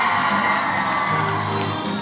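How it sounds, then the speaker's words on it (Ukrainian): A concert audience at a dance show in Lutsk, Ukraine applauds and cheers, a loud, continuous roar of clapping with whoops and shouts, steady across the whole stretch. "Тісато і Сікава, ваші оплески!"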